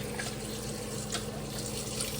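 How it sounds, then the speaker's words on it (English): Cold tap water runs steadily into a sink while a whole raw chicken is rinsed, a continuous close splashing hiss. "I am just going to wash this chicken off with some nice cold water"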